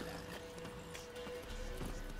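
A horse's hooves in The Witcher 3 clip-clop at a walking pace, fairly faint beneath game ambience and music.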